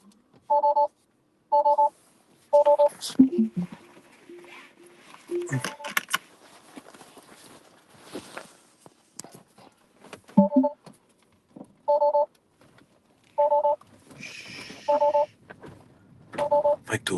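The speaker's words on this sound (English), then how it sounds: "My door's open, that's why it's beeping." Repeated two-tone electronic beeps from a car's door-open warning, sounding in short evenly spaced bursts inside the vehicle, with a gap where someone talks and other cabin noise in between.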